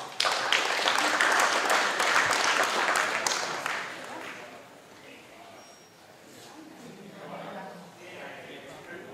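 An audience claps at a rally prize ceremony in Heinola in 2018. A dense burst of applause lasts about four seconds, then thins and fades under a voice speaking.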